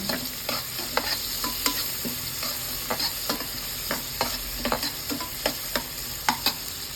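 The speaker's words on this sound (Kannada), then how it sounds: "ಈರುಳ್ಳಿ ಹಾಕ್ಕೊಂಡ್ಬಿಡೋಣ. ಇದು ಸ್ವಲ್ಪ ಕೆಂಪಗಾಗೋವರೆಗೂ ಹುರ್ಕೊಳ್ಳೋಣ." Chopped onions fry in a pan for a Karnataka-style chayote curry, a steady sizzle punctuated by regular sharp knocks and scrapes of a spatula stirring, close and clear with no speech.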